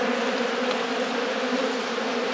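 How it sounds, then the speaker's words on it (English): Honeybees hum continuously around a hive brood nest in a late-season inspection, a dense, steady, close buzz with no pauses and no voices. "Bees are drinking that nectar."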